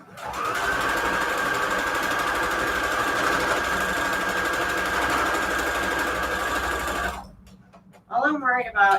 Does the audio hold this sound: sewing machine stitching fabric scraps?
yes